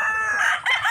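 A fighting cock crows once, a short, loud and close cock-a-doodle-doo with a strained, rising-and-falling tone lasting under a second.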